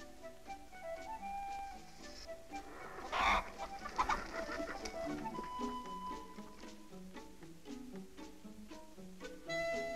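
Chickens cluck on a Danish farm, soft and somewhat distant, with a louder burst of squawking partway through and steady low fowl chatter throughout, no talking.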